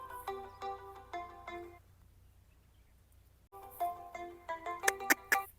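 A phone ringtone plays a bright, repeating melodic phrase, stops for a few seconds of quiet, then starts again louder with sharper notes, close by and with no talking over it.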